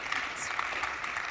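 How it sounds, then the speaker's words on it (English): Audience applause at a livestreamed conference session, a steady wash of clapping hands at moderate level with no voice over it, continuing briefly without a break. "I think that deserves an applause."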